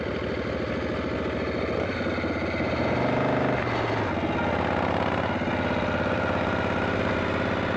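A David Mann chopper motorcycle idles a little high, its engine putting out a steady, loud, throbbing rumble that holds at a constant pace with no one speaking.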